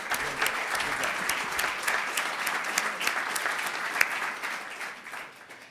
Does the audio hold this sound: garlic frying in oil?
no